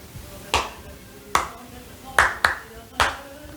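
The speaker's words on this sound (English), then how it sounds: "I want you to go with me, clapping your hands" Five separate hand claps mark out a tango rhythm in a dance lesson. They are crisp and close, set at uneven intervals, with two falling close together near the middle.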